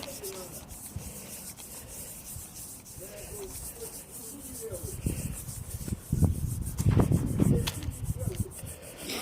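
Abrasive paste is rubbed by hand across a balsa wood strop in a dry, scratchy back-and-forth, faint at first and growing louder and coarser toward the end.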